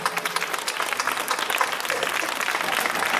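Audience applause at a church gathering, a steady dense patter of many hands clapping throughout, fairly close and moderately loud with no talk over it.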